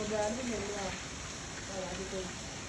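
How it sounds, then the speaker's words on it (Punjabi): Heavy rain pours onto a village rooftop as a steady, fairly loud hiss with scattered drops, continuing beneath a voice talking close by. "ਮੈਂ ਛੱਤ ਤੇ ਵੀਡੀਓ ਬਣਾਉਣ ਵਾਸਤੇ ਆਇਆ ਤੇ ਬਾਰਿਸ਼ ਹੋਰ ਤੇਜ਼ ਹੋਣ ਲੱਗ ਗਈ"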